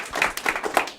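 Scattered claps from a stand-up comedy audience, a few separate hand claps spaced irregularly across a short second rather than sustained applause.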